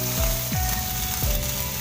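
Crushed ginger and green chili hit hot oil in a pan for sweetcorn chevdo, giving a steady close sizzle with a few soft stirring scrapes and no talk.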